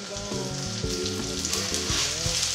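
Filet mignon steaks sizzle loudly in a pan of butter and a little olive oil, a steady close crackle running throughout with soft background music.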